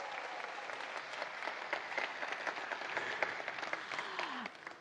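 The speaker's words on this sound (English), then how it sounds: "Let's give them a big round of applause, please." Steady applause from a conference audience at an opening ceremony, dense clapping sustained for several seconds before tapering off at the end.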